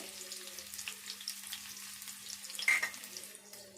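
Sliced onions and two bay leaves sizzle in hot oil in a pan for chukkakura rice, a faint, steady frying hiss with a soft low hum beneath and a slightly louder crackle near the end.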